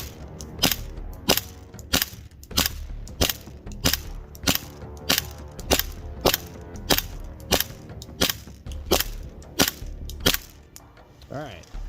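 A WE Cybergun airsoft Desert Eagle pistol fires BBs in a steady string of about fifteen sharp, evenly spaced pops, close and crisp, with a brief faint voice near the end.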